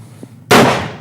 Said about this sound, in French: C'était quoi ce coup de feu?